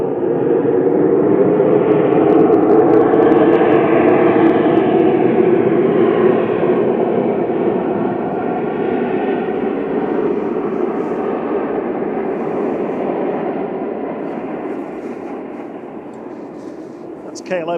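Airbus A220 jet engines spooling up at Manchester Airport, a loud, steady broadband roar with a whining fan tone that fades slightly toward the end, heard alone without talk.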